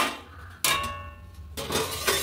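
A lid set onto a cooking pot of potatoes simmering for a ridge gourd dish: a sharp metallic clank with a brief ringing tone, followed by a second clatter and soft kitchen noise.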